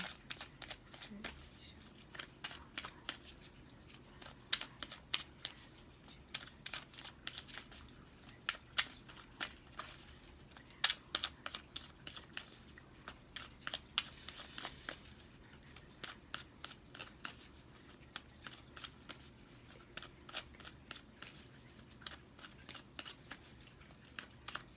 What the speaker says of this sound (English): we're going to shuffle 2 more times.